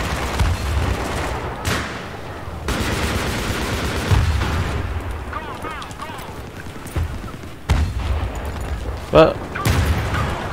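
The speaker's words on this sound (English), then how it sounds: "what is shooting at me right now?" Gunfire in Battlefield 3 during a conquest match on Damavand Peak: sharp, loud shots and bursts crack repeatedly across the scene, mixed with explosions and rumble, while a player talks over the action.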